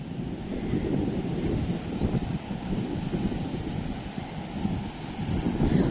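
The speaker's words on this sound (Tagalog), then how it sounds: "Ang lakas ng alon pa" Strong ocean waves at the beach in Houlgate, Normandy, a constant heavy surf roar with wind buffeting the microphone, steady and loud throughout with no talk.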